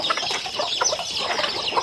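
Chickens cluck steadily at a family home in Laos, several birds overlapping in a busy, close chorus with no pauses throughout.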